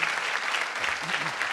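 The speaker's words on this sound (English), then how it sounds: "We can give him a big round of applause." A live audience applauds a comedian at a talk event, dense steady clapping throughout the short moment, close and fairly loud.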